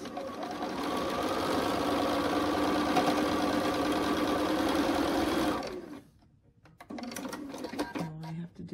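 A sewing machine runs continuously for several seconds stitching a quilt seam, a steady close mechanical whir that then stops, followed by a few soft clicks and handling noises.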